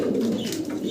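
A young German Shield pigeon coos in a brief, low, rolling burst, close and clear.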